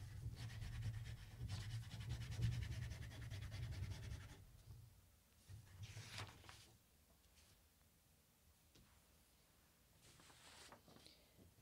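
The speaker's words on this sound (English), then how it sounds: "what you're going to do is start coloring over top of the chalk to make an outline" Chalk coloring over tape to draw an outline for a children's Ash Wednesday craft makes soft, faint scratchy rubbing strokes for several seconds, then sparse light scrapes.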